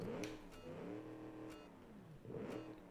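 A 5-liter V8 race car engine in BeamNG, 255 horsepower with a low redline, revving up and down in rising and falling sweeps, a moderate, steady motor tone with a few sharp blips.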